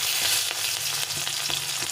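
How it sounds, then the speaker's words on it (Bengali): A chilli, bay leaf and black cumin seeds fry in hot oil, producing a dense, bright, close sizzle with faint stirring taps, heard alone without talk. "একটা লঙ্কা, তেজপাতা দিয়ে আমি বেশ কিছুটা কালো জিরে দিয়ে দেবো। ভাজা ভাজা হয়ে গেলে"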